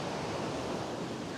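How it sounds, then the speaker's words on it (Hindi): Steady broadband wash of ocean surf rolling onto a beach near Gwadar, continuous and fairly even with a windy, noisy texture and no distinct breaks between waves. "और लहरों की आवाज़ सुन रहे हैं ना, वाह जी वाह।"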